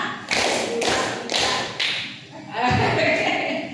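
Elderly congregation at an evening church service claps in unison, several crisp group claps spaced about half a second apart, followed by a fuller burst of clapping and murmuring voices.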